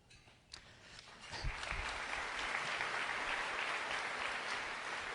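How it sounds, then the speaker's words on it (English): Audience at a State of the Schools address for the Cleveland Metropolitan School District breaks into applause that swells after a quiet start and holds as a steady, dense wash of clapping from a large hall crowd. "I knew somebody would applaud when I said I was leaving."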